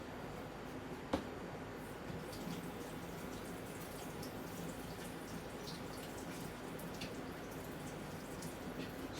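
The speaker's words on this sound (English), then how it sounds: "Okay, right, I'm going to wash my hands." Water running from a sink tap during handwashing, a steady soft splashing wash with faint drips and one brief knock early on, moderately close and quiet, no talking.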